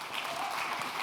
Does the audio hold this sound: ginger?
no